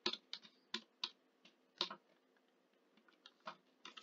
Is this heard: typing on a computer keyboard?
yes